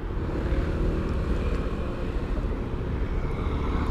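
A helicopter flying near the Garuda Wisnu Kencana statue, heard as a steady, continuous engine and rotor rumble that holds at an even level throughout with no talking.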